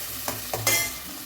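Onion and tomato frying in a pan for brinjal sambar are stirred with a utensil, making three quick scraping strokes over a steady sizzle. The sound is close and moderately loud, with no one speaking.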